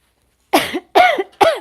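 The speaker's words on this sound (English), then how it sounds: "I don't mean to cough in this microphone, but I've got something in the back of my throat" Three harsh, loud coughs close to a microphone, evenly spaced and each about a quarter second long, from someone with something stuck in the back of the throat.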